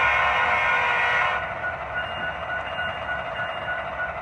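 A Walthers SD70ACE HO-scale model locomotive on a CNW layout sounds a sustained horn blast for over a second, then settles into a steady electronic diesel rumble. The tone is loud and close, with no talking.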